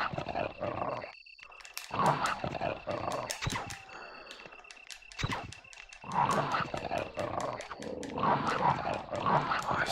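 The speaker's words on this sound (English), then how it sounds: "I hate these dogs here. I really do." Zombie dogs in the 1996 Resident Evil 1 video game growl and bark loudly and almost continuously, layered over in-game effects with brief pauses between snarling bursts.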